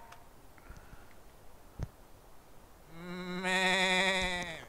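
A voice imitates a cow in a VR game, a drawn-out, wavering moo that swells loudly near the end after a quiet stretch with a couple of soft knocks.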